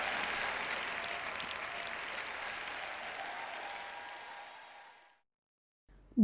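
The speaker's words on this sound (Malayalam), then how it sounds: "ഒരാൾ കൈയടിക്കുന്നു" Steady clapping runs for about five seconds, then fades out and stops, followed by a brief thump at the end.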